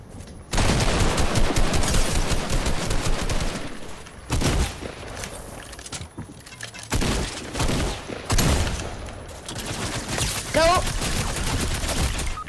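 Automatic gunfire in a Fortnite match crackles in loud sustained bursts, some long and rapid, others short, broken by brief pauses, with players chattering over and between the shots.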